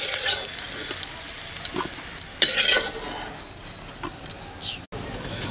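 Chilli frying in a cooking vessel while a spoon stirs it, giving a steady sizzle with scraping and clinking strokes throughout, fairly close and moderately loud; brief speech-like sounds appear but no clear words.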